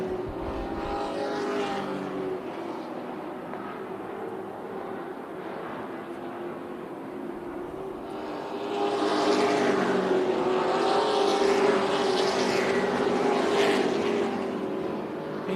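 Race trucks running three wide for the lead at Tucson Speedway during championship night, a blended engine roar from the pack rising and swelling as they pass, with a commentator talking over it.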